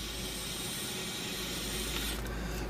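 A steady hiss of aerosol G96 spray into a Steven's 320 shotgun barrel for a few seconds, close and continuous, with faint metallic rattles near the end.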